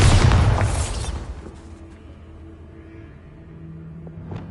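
A Bombarda explosion spell goes off in Hogwarts Legacy, a heavy close boom with a rumbling tail that dies down over about a second into quiet game ambience.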